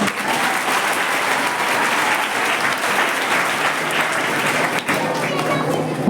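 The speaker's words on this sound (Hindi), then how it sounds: "एक बार आप ही के लिए ताली बजा दीजिए।" A crowd of children and guests claps loudly and steadily at a school Republic Day celebration, the applause dense and continuous throughout, with a brief dip near the end.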